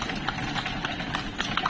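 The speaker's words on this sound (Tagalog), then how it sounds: "Dami kabayo." Horses walk on a road in Ilocos, hooves clip-clopping in a steady irregular patter among several animals, moderately close over continuous outdoor background noise.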